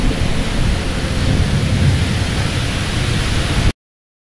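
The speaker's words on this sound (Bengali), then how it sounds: "কি ভয়ানক ঝড় হচ্ছে দেখো, কি ভয়ানক ঝড় হচ্ছে, বৃষ্টিও পড়ছে।" A violent summer thunderstorm with heavy rain, heard from indoors near a window as a dense, constant roar of wind and downpour that cuts off abruptly.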